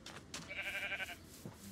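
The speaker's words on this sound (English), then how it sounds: "Oh, you got sheep." A sheep in Minecraft Bedrock gives one short, quavering bleat, fairly faint and alone against quiet background sound.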